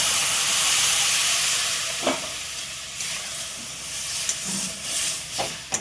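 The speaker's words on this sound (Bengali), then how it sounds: "এবার আমি একটুখানি উষ্ণ গরম জল এখানে অ্যাড করে দিচ্ছি।" Warm water poured into semolina mango halwa cooking in a pan, a loud hissing rush of steam and sizzle at first that fades into softer bubbling with a few stirring knocks, close and without talk.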